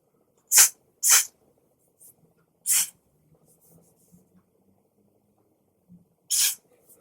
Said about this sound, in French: je vais prendre mon Got2b spray